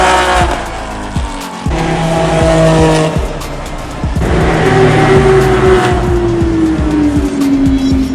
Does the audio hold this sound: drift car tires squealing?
yes